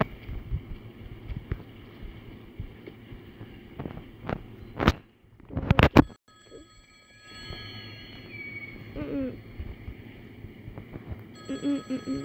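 An old-style telephone bell rings in a video game, a few short rings in the latter half, moderately loud over game ambience, footsteps and low background noise, with a sharp burst of noise just before.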